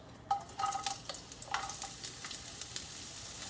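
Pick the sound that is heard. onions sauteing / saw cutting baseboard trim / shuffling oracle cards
onions sauteing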